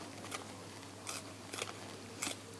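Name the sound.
scissors chopping spring onions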